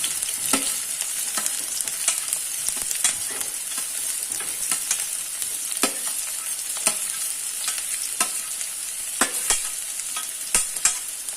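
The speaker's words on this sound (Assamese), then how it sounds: "এতিয়া মোৰ তেলখিনি গৰম হৈ গ'ল, ইয়াত মই দি দিম পিঁয়াজখিনি।" Onions sizzle in hot oil for a chicken curry, a strong continuous frying hiss punctuated by frequent sharp spatters and stirring scrapes at an uneven rhythm, with no voices over it.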